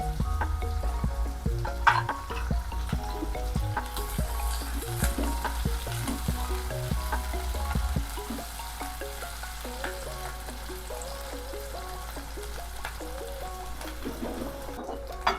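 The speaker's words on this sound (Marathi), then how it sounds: "ह्यामध्ये आपण कांदा परतून घेऊया. अर्धे कच्चे शिजवायचे." Onion sautéing in oil in a pan, a continuous close sizzle with scraping and stirring throughout, fairly loud, no talking.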